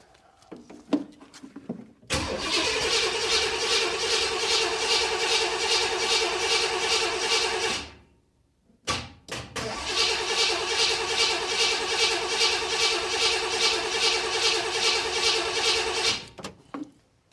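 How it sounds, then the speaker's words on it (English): The crate motor in a 1979 Corvette, with its carburetor flooding, cranks over in two long, steady, rhythmic starter bursts separated by a brief pause, never catching or firing. "I just tried cranking it over and it wouldn't start"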